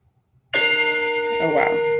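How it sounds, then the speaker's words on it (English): A loud meditation gong strikes once and rings on with a steady, sustained metallic hum of layered tones that barely fades, alone after near silence. "a very loud gong today"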